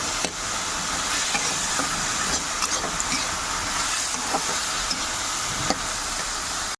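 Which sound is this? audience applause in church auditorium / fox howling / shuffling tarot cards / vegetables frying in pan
vegetables frying in pan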